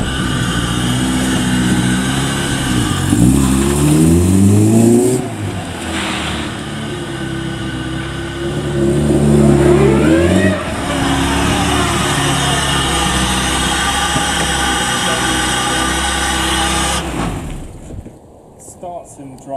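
A Honda Civic EF engine on a P28 ECU, running slightly rich, idles and is blipped through several loud rising and falling revs close by in a garage, with someone talking over it at times.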